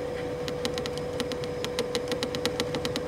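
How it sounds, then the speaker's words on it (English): A running engine in a 1996 Mercury Villager minivan, a steady mid-pitched hum with a regular pulsing idle, heard close up with a string of sharp ticking clicks on top. "I have the engine running right now"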